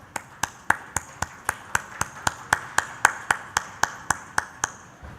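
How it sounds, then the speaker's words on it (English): A single person clapping slowly and evenly on stage at a marketing conclave, about twenty sharp claps in steady rhythm, close and clear with no crowd behind. "Please give him a big round of applause."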